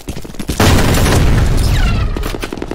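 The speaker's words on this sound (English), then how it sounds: "Grenade out!" Grenade blast and rapid gunfire in the combat shooter F.E.A.R., a sudden loud boom followed by a sustained crackling burst of shots that slowly trails off.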